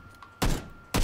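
Gunfire in PUBG during a firefight: two sharp, fairly quiet shots about half a second apart, the first trailing off briefly, with no speech.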